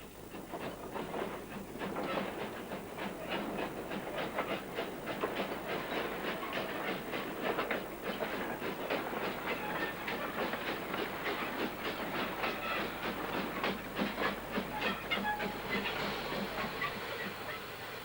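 A steam train in Java runs steadily close by, its rapid exhaust beats pulsing under a constant hiss and mechanical clatter, with no voices.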